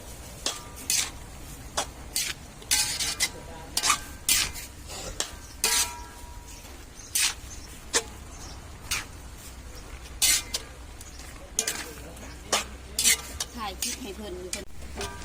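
Vegetables stir-fried in a pan, with steady sizzling under repeated scraping and clattering of a utensil against the metal in an uneven rhythm, close by, while someone talks.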